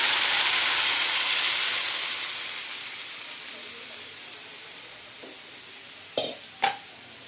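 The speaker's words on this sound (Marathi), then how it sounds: "हे जे मिश्रण बनवलं होतं सगळ्या भाज्यांचं आपण ते टाकूया" A vegetable mixture for pav bhaji sizzles in a hot pan with a strong steamy hiss that slowly fades, followed near the end by two sharp metallic clanks of a utensil.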